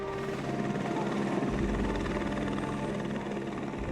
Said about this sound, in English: they must get used to the noise and alarming rotor blades of the helicopter